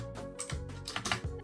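Quick, uneven keystrokes rattle on a HyperX mechanical keyboard, close and fairly quiet, with no voices over the clicking.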